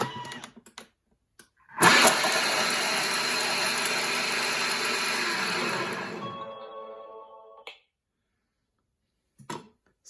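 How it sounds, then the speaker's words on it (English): A kitchen machine chopping garlic and chili at speed 7 gives a loud, steady whirring roar for about four seconds that then winds down, with brief clicks of the lid before and after. "And chop for 3 seconds on speed 7."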